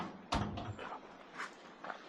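A door thuds shut at the entrance of a predator-proof fence at a New Zealand bird sanctuary, one close knock followed by a few softer rattles and clicks over faint outdoor background.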